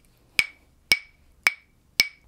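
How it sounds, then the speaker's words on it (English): Claves, two wooden sticks struck together in four evenly spaced, sharp, bright clicks, close and clear against near silence. "Today I'm going to do some clave songs for you."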